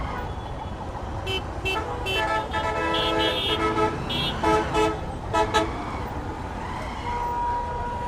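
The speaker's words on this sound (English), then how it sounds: "A lot of traffic here." Busy holiday street traffic around a motorcycle, with several short car horn toots rising over a steady engine and road rumble, heard from the rider's point of view amid a constant noisy background.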